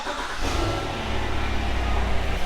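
A car engine fires up and revs hard to cycle the oil, a loud, close, continuous roar with a low rumble and no talk.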